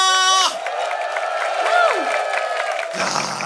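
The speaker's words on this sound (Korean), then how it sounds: "너무 함성 잘 쳐주시고요" Soldiers of an army engineer brigade roar and shout together at a military entertainment show, a loud, sustained crowd cheer with high whoops rising above it, cut briefly by a voice at the start and end.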